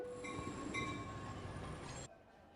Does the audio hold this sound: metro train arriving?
yes